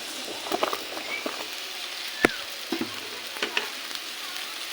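Potato pieces and ridge gourd fry in a pan with a constant soft sizzle, broken by scattered clinks and scrapes of stirring, one sharper knock near the middle; no one speaks.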